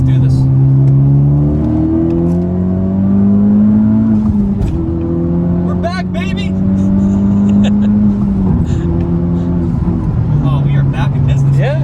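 A Honda Civic Type R pulls hard at full throttle from inside the cabin, engine note climbing steadily through the gears with brief drops at each shift, people talking over the drone.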